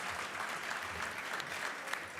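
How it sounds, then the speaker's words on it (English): Steady, dense applause from an awards gala audience honoring scientists, a continuous wash of clapping held at a fairly soft, distant level for the whole stretch with no voices rising above it. "So, get a round of applause to all these incredible scientists"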